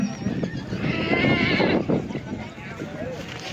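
A horse neighs amid a busy outdoor crowd at a horse race, with people talking loudly nearby throughout.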